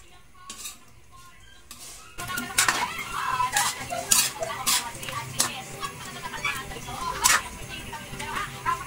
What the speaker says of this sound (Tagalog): Hahaluin lang na naman natin to ng mabilisan.